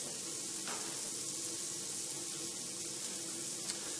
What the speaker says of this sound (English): Our cast iron pan's been heating up, and we'll go ahead and toss in some roughly chopped bacon.